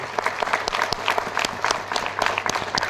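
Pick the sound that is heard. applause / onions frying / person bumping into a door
applause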